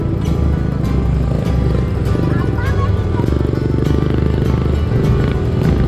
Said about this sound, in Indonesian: Motor kita motor metik ya. Walaupun udah di bore up, tetap kalah sama jalur-jalur kayak gini